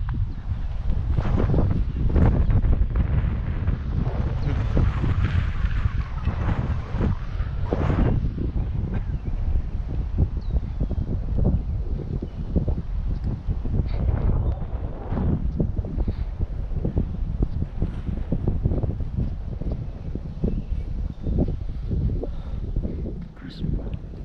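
Strong wind buffets the microphone in continuous low roaring gusts, loud and close throughout with no clear pauses.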